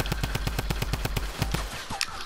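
Rapid automatic gunfire in Fortnite, a steady burst of evenly spaced loud shots lasting about two seconds, close and punchy, followed by a brief high ring.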